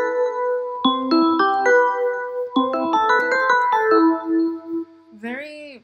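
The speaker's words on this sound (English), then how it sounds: "I have another chord instrument here called the FM piano from the ES2 sampler." FM piano chords from the ES2 synth, processed for a vintage 70s–80s tone, ringing out in several layered sustained chords with a short wobbly sweep at the end.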